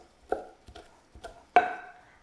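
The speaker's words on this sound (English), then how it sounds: "And this time I'm going to chop it up." Fresh garden basil leaves chopped with a knife on a cutting board, four distinct thuds spaced irregularly, the last one loudest with a brief ringing tail, close and otherwise quiet.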